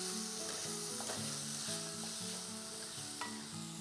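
Chopped tomatoes hit hot, sizzling masala in a pan while cooking matar paneer, making a loud, even frying hiss with soft stirring scrapes and a brief clatter near the end, and no talking.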